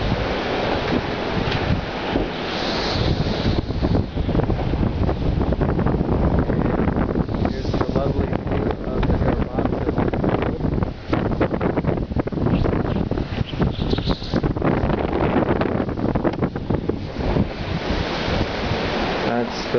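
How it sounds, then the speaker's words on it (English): Strong wind roars steadily around a yurt under construction, a constant loud rushing with gusty surges and buffeting against the microphone. "Man, is it windy."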